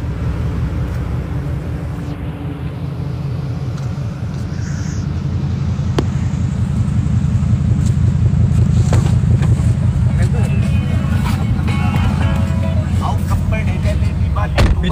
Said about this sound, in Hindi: अभी ये गाड़ी शांति में खड़ी है तो भी आवाज़ ही कर रही है।